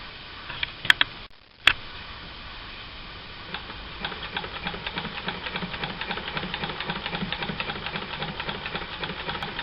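A vintage sewing machine stitching with an edge foot, a steady fast ticking whir that settles into an even running rhythm after a couple of sharp clicks near the start, close and fairly quiet with no talk.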